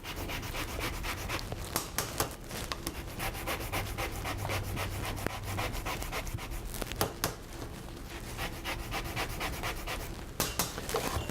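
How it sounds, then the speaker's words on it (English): Microplane grating the skin off a lemon, a continuous close scratchy rasping with quick back-and-forth strokes and occasional small knocks, no voices. "I'm going to simply take my microplaner and I'm going to microplane the skin off of the lemon."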